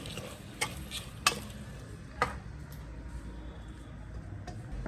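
Tomatoes cook down in a pan with a low, steady simmering sizzle, broken by three sharp clinks of a spoon stirring against the pan, fairly quiet with no voices.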